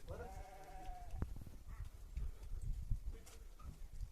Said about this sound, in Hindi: उनके पास माल कुछ ज़्यादा है, भेड़ प्लस बकरियां दोनों ही है।